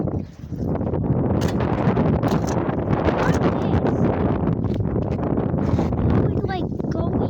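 Strong wind roars steadily into the microphone on an extremely windy day, a loud, dense buffeting that continues unbroken for several seconds with gusty flutter and rustling on top.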